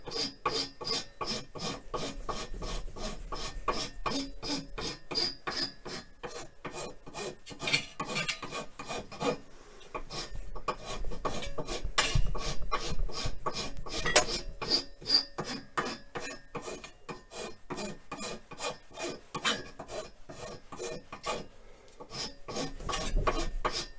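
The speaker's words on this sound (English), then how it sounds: "The coarser the rasp, the more likely you're going to catch and peel off the wood." A coarse rasp files a wooden car radio knob in fast, rhythmic back-and-forth strokes, a dry scraping rasp repeating closely throughout with only brief pauses, close and fairly quiet.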